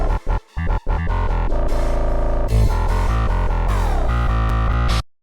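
The second half of an 808 bass pattern in an FL Studio drill beat booms loud and deep with gliding pitch slides, its opening stuttered by quick gaps before a sustained rolling run that stops abruptly.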